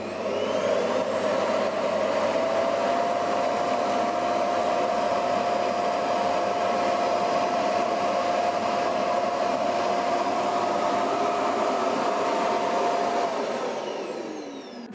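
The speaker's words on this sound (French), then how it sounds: "ça va vider votre aspirateur" Stick vacuum cleaner emptying into its self-emptying wall dock, a loud steady high whine and rushing airflow running continuously for about fourteen seconds, then winding down at the end, close with no talking.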